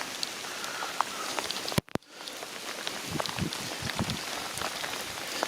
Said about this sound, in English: it's just a rainy day